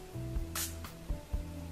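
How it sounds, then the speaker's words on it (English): Short bright hiss of an e.l.f. Mist and Satin setting spray misted onto a face, a single quick burst under a second long, fairly faint against a quiet room. "and I'm just going to spray this on my face."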